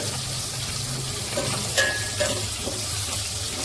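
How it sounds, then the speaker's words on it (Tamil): Twelve green chilies fry in oil in a kadai, a steady broadband sizzle and bubbling with a few sharper spits and pops, close and fairly loud, no voices. "இந்த மாதிரி வெள்ளை வெள்ளையாக வருது பார்த்தீங்களா பச்சை மிளகா. அப்போ இது பொரிஞ்சிச்சுன்னு அர்த்தம்."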